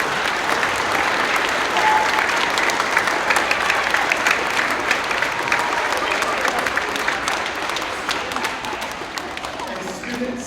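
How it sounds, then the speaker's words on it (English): Loud, sustained applause from a school audience at an elementary Veterans Day program, dense clapping from many people that eases slightly toward the end, with some crowd murmur underneath. "So let's give them a round of applause"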